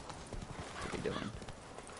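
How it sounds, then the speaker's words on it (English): Horse hooves clip-clop at a steady gallop in a video game ride, moderately close and quite soft, under faint speech. "Come on, Roach. We gotta chase down a horse."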